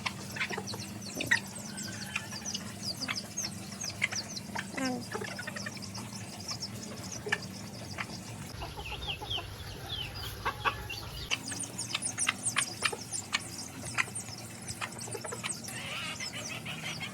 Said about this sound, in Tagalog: May mga manok talaga pag umaga at hapon ang pakain ko niyan.